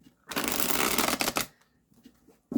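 A tarot deck is riffle-shuffled in one dense, loud burst lasting just over a second, close up, followed by faint handling noises and quiet.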